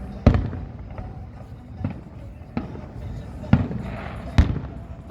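Fireworks go off in scattered separate bangs, about six sharp reports spaced a second or so apart with faint crackle between them, heard from a moderate distance.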